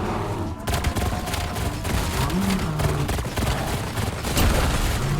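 Burst pistols firing in Black Ops 7 Zombies, with loud, rapid clusters of shots repeating over a busy game mix of impacts and effects.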